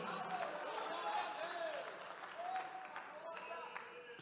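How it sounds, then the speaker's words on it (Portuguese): A church congregation claps in praise during a Portuguese-language sermon; the applause is faint and steady, blended with voices throughout. "Quem pode levantar a mão e aplaudir Jesus por isso aí? Quem pode aplaudir mais alto aí?"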